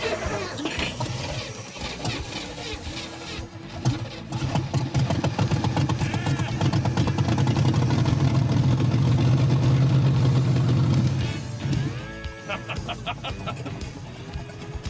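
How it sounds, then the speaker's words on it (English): The engine of a Chevelle hot rod idles with a loud, close, lumpy rumble that swells into a stronger, steadier roar for several seconds before settling back down to a rougher idle. "It's idling."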